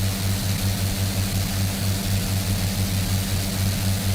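Propeller engines of a Farman F.60 Goliath, a converted WW1 bomber, in Microsoft Flight Simulator 2024, running in steady flight as a constant loud, droning hum with a rhythmic low pulsing throb throughout.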